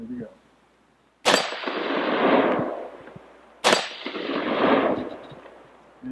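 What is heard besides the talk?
gunshots hitting an AR500 steel target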